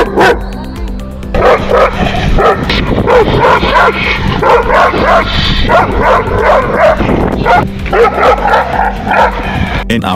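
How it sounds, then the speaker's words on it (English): An Alabai (Central Asian Shepherd) and a German Shepherd bark loudly and close up in a rapid string of deep woofs mixed with higher yips and whimpers, continuing without pause. "Powerful and loudest bark. Let's hear it first and we'll decide accordingly."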